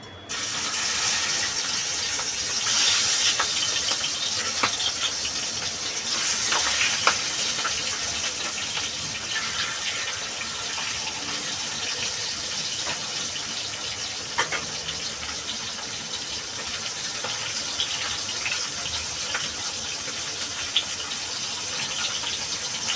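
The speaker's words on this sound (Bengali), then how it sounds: "তেলটা আমার গরম হয়ে গেছে বন্ধুরা মাছটা আমি দিয়ে দেবো" Catla fish fries in hot oil in a pan, a steady loud hiss and crackle with scattered sharp pops and spits running continuously and evenly throughout.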